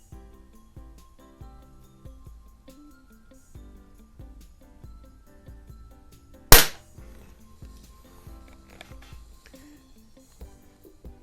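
A single sharp crack from a 100-year-old Swedish .21 caliber pellet rifle rings out loud and close, standing alone against a quiet room with faint background hum.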